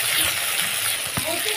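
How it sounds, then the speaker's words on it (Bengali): Koi fish sizzle steadily in hot oil in a pan as they are turned over, a close, even frying hiss with a faint clink partway through. "মাছগুলো ভালোভাবে উল্টে পাল্টে ভেজে নিচ্ছি, খুব সুন্দর করে লাল করে করে ভাজছি।"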